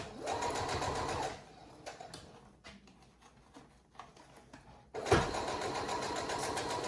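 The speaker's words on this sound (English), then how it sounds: "I'm trying to sew right beneath." A sewing machine stitching a breathable fabric face mask, a loud close mechanical whir in bursts with quieter handling sounds in between, then the motor running again.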